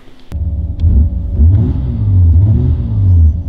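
An Opel Omega engine runs loud and close, its slightly leaky exhaust rumbling as the revs rise and fall in a few smooth swells after a sharp click at the start.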